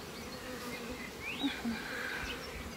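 Honey bees buzzing steadily at an apiary hive, a constant faint droning hum with no talking.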